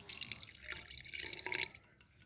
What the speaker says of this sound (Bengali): ছোটো কাপের এই 1 কাপ আমি জল দিয়ে দেব।